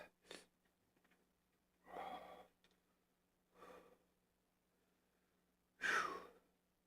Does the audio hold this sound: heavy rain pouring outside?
no